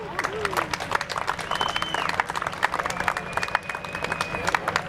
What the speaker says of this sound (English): How about a big round of applause for the Friends of the Bowl Foundation?